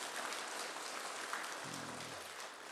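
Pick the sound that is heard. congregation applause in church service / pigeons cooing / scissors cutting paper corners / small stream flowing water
congregation applause in church service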